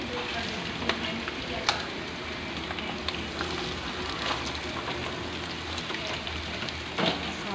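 Shredded cabbage stir-frying in a hot pan for chicken spring rolls, a steady low sizzle and crackle with occasional sharp clinks of a stirring utensil, fairly quiet and close, no talk.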